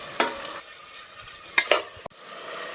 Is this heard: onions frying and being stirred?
yes